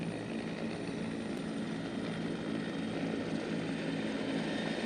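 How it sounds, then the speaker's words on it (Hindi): Bell 412 military helicopters fly past at a national day parade, a continuous loud rotor and engine roar sweeping broadly and steadily throughout with no voices. "दिन और रात के ऑपरेशंस की सलाहियत के हामिल ये हेलीकॉप्टर्स अफवाज की तेज नक्लो हमल के लिए इस्तेमाल किए जाते हैं।"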